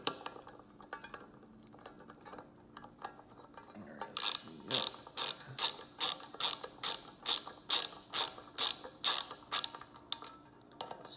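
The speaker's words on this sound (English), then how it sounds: "we take our 5/16 on our mini 1/4" ratchet" Quick ratcheting clicks from a mini 1/4 inch ratchet with a 5/16 socket tightening a fastener on a small metal toolbox, about a dozen crisp, close bursts in steady rhythm after a quieter stretch of faint handling noise.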